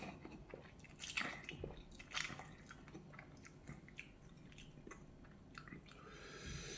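Someone eats Shin Ramyun noodles with rice and green onion kimchi, giving close, quiet bites, wet chewing and soft crunches in an irregular rhythm with no talking.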